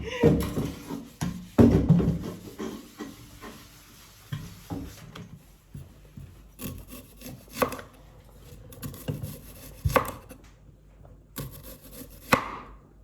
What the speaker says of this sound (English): And you cut them, you just make cut them like that.